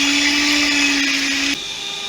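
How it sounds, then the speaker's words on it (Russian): Electric mixer whipping eggs into white foam for a Babka Neagră dessert, a steady loud whine that drops in pitch and weakens near the end, with no talking. "И взбиваем яйца до белой пены."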